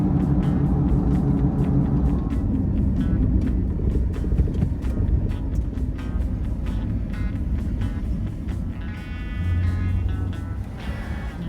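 A car drives into a long, narrow park, giving a steady close engine rumble with road and wind noise throughout that swells and shifts slightly near the end.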